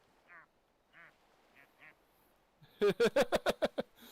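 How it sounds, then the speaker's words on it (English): A duck's quack from a video game, played in reverse because the model is inside out: a few faint reversed calls at first, then a loud rapid run of about seven swelling quacks close up. "the quack is backwards because it's inside out."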